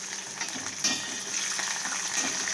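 Curry leaves frying in oil in a pan for green fried rice, a continuous close sizzle with a sharp crackling flare near the start and faint stirring beneath, no talk.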